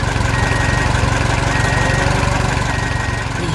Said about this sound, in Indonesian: Lihatlah traktor kuning dan trailer biru bekerja keras.